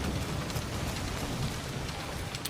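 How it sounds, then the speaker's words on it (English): Steady, dense rain falls in a video game shown at Ubisoft Forward 2024, a continuous hiss of drops on surfaces at an even, fairly loud level with no voices over it. "The rain, everything's going on in this game."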